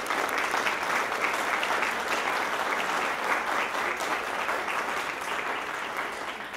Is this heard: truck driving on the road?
no